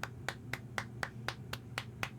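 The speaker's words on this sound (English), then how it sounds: "you weren't supposed to record me smacking my own bum" A person smacking their own bum as an audio marker, nine sharp slaps at an even pace of roughly four per second, crisp and fairly quiet in a still room.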